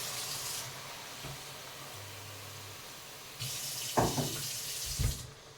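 Water runs from a tap into a pot of lightly cooked rice, mango, tomato, pepper and onion: a steady hissing stream, a pause, then a louder splashing pour with a few clunks near the end.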